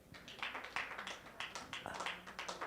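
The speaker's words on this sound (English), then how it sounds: "Let's give our clap." Scattered audience clapping at a women's leadership conference, a handful of hands striking in loose, uneven bursts, moderately close and fairly quiet, with no talk over it.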